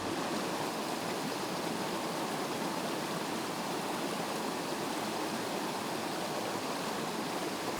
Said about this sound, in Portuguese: com 8 belas cachoeiras de água pura e cristalina